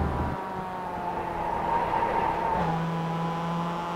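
Mazda MX-5 race cars run at WeatherTech Raceway Laguna Seca, their engines making a steady, moderately distant drone that drops in pitch and then settles into a lower hum partway through.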